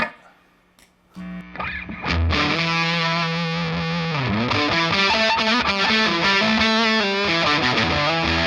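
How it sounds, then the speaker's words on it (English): A heavily distorted electric guitar through a Walrus Audio pedal starts after a brief quiet moment, then rings out loud and sustained with a wide, washy maximum reverb tail. "This is distortion and max reverb."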